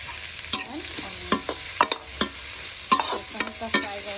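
Cheese momos fry lightly in a pan with a steady close sizzle, broken by repeated sharp spatula scrapes and taps against the pan.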